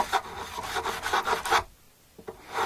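Sandpaper rubbing back and forth over the frets of a Harley Benton Telecaster kit guitar neck, a steady rhythmic rasping of about eight strokes that stops for a moment, then a couple of lighter strokes.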